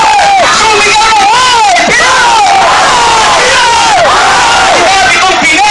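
A packed crowd at a freestyle rap battle between Abra and Loonie at a festival roars and shouts continuously, a loud, dense wall of yelling voices with individual whoops rising and falling throughout.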